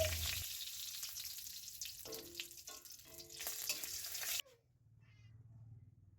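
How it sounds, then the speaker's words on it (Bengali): Whole cumin, one dried red chili and a bay leaf frying in hot oil, a loud close sizzle with a few stirring knocks, then cutting off abruptly to a faint low hum. "দিচ্ছি গোটা জিরা, একটা শুকনো লাল লঙ্কা, একটা তেজপাতা। ফোড়নটা তেলের সাথে ভালো করে ভেজে নেব।"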